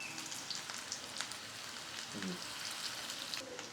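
Alu vadi, sliced colocasia leaf rolls, shallow frying in oil over low gas, a quiet crackling sizzle with scattered faint pops and a brief soft scrape, no one speaking.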